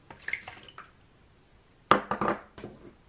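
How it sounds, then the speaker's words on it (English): Water is poured into a bowl of cupcake mix ingredients, heard as a few close splashing, sloshing bursts after a quieter stretch of light clinks. "Now we are going to add the water in"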